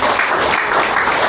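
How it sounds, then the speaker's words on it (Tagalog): Congregation applause at a church service, offered as praise for the Lord, a brief steady wash of clapping throughout. "ibigay natin the best na palakpak"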